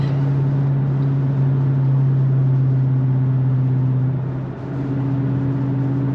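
A Chrysler 300S 5.7 HEMI drones loudly with a deep, steady exhaust hum through an aftermarket exhaust with mid muffler deleted, dipping briefly in pitch as it shifts before settling back to a constant rumble.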